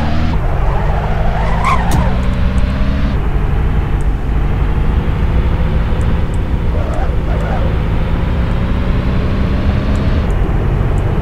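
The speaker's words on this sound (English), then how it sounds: "Okay, we're gonna do a U-turn." A car swings through a U-turn on city streets with a sustained engine drone and some tire noise throughout, loud and close from inside the vehicle.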